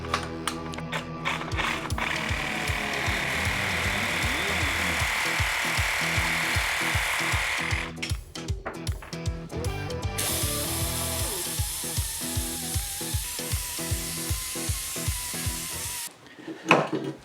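A hacksaw fitted with a fresh blade cuts metal in steady back-and-forth strokes, a close, rhythmic rasping that quickens in the second half before stopping.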